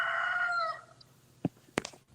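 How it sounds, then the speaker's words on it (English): A rooster crows once, a drawn-out call that fades, followed by a couple of sharp clicks or knocks, fairly faint against a quiet room hum with no talk. "the rooster said some shit."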